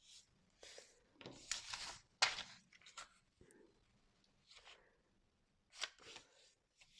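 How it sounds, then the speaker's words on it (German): Thin book page being folded in half for a junk journal: soft, quiet paper rustles and crinkles in irregular bursts, with a few sharper crisp creasing sounds, close up and alone. "Dann einfach mal in der Mitte falten."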